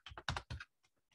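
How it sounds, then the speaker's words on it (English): Rapid clattering keystrokes on a computer keyboard, a quick burst of several close taps, then a few fainter isolated clicks. "Writing down some topics, typing them out."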